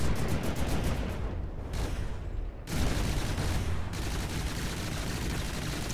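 Dual 60mm miniguns on a craft in From The Depths fire in a dense, roaring stream of rapid shots, loud and close, breaking off briefly twice before resuming as steady continuous fire.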